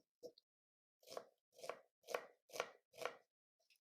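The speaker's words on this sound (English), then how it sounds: "Hold the knife and hold the onion in your left hand. Now cut it 3/4 of it." A knife cuts through an onion on a board in five crisp, evenly spaced strokes after a single earlier chop, each one close, sharp and clear against an otherwise silent kitchen.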